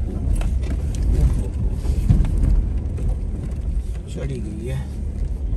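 A 4x4 vehicle in low gear crawls up a rough, dangerous mountain dirt road, with a close, steady engine rumble and wind buffeting, under a voice talking throughout.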